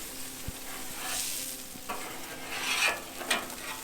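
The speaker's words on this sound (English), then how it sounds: "take your scraper and just push everything to the back" Metal scraper strokes pushing water and food residue across a Blackstone griddle, a few distinct scraping swipes over a soft sizzling wash, close and fairly quiet with no talk.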